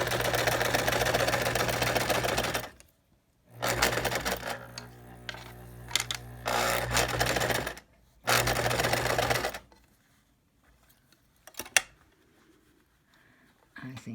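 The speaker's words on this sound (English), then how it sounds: "I'm going to sew." Sewing machine stitching fabric in several bursts of fast, close mechanical whirring, split by short pauses and a longer quiet stretch with soft handling clicks near the end.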